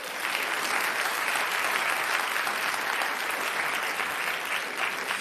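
Steady, dense applause from many hands holds at an even level throughout, with no pause or build, sounding like a continuous crowd clap.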